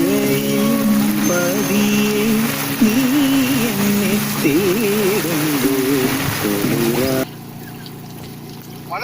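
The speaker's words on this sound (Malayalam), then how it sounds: "മഴ" Steady, heavy rain hiss with a wavering tonal hum riding on top, cutting off abruptly near the end.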